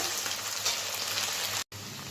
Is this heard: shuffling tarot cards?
no